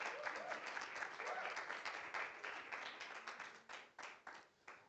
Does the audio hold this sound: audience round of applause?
yes